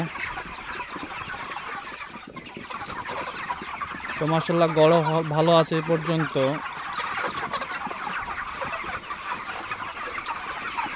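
Dense chorus of hens clucking and murmuring in a crowded poultry house, steady throughout, with someone speaking over it and a brief louder tonal burst midway.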